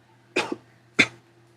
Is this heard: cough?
yes